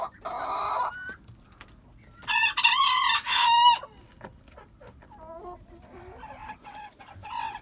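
A rooster crows loudly and nearby in a backyard coop, one long crow in the middle, while hens cluck in short bursts before and after it.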